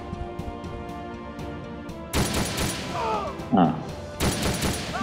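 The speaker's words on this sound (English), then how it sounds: "Unfortunately the enemy remained alive, and I got return fire from both of them." Bursts of gunfire answered by return fire in the Nintendo 3DS tactical game Ghost Recon Shadow Wars, two loud volleys cutting in over a steady music bed, with a brief whooshing effect between them.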